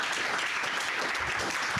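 Applause from a conference audience after privacy lab talks, a dense continuous wash of many hands clapping at steady level, close and filling the whole short stretch.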